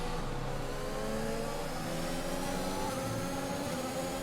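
An F1 car in the racing game F1 2021 accelerates hard out of a hairpin at the Japanese Grand Prix, its engine a steady, loud, high-pitched whine that climbs through the gears for the whole stretch.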